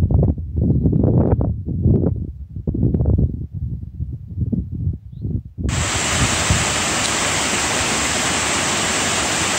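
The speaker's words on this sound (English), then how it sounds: "This is Greenland Creek Falls." Greenland Creek Falls in Panthertown Valley, Nantahala National Forest, North Carolina, bursts into a steady, loud rushing roar partway through, after a stretch of uneven rumbling and rustling.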